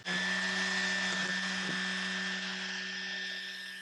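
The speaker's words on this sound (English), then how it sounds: "we can just run the weed eater along the edge here" A weed eater runs at a steady high-pitched whine while trimming runners along the edge of a mulch bed around trees, loud and continuous throughout with no talking.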